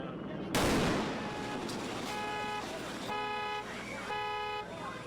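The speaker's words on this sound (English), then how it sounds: "a cache of illegal fireworks exploded on their street" A cache of illegal fireworks explodes on a South LA street with one sharp, loud blast, followed by a car alarm's repeating tonal honks and a blaring horn, with a voice talking under it.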